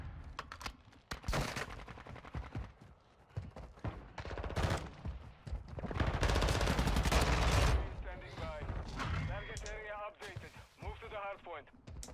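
Pistol fire in Call of Duty: Modern Warfare 2 multiplayer: sharp shots and bursts of gunfire ring out among game effects, with a player talking over much of it.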